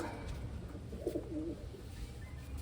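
A big-size blue bar Wantai pigeon gives a soft, brief coo in the middle, alone over a low hum of background noise.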